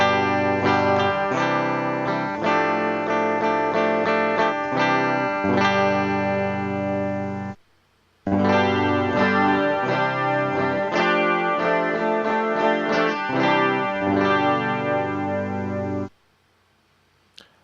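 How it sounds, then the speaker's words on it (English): An electric guitar plays a melodic phrase dry, then after a short pause repeats it with a chorus effect that thickens and shimmers the tone; loud and close, no talking. "This is the sound of an electric guitar being played first dry without any chorus, and then with a chorus sound added to it."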